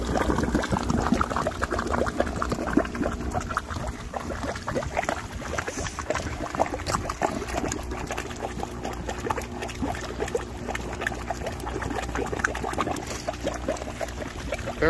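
Water trickles and splashes from a leaking pipe on a vortex aerator with an air lift, a dense, steady bubbling and dripping wash that holds at a constant level throughout, with no talk.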